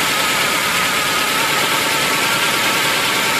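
Volkswagen Quantum with automatic transmission and carburetor, its engine idling steadily and loud as the brake is pumped, a continuous close rumble with no talk over it.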